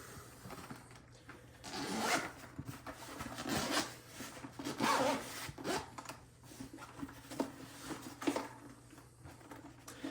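A zipper on the case of Aune SR7000 closed-back headphones is drawn back and forth in several rasping pulls, close and moderately loud, with soft rubbing and handling noises between strokes.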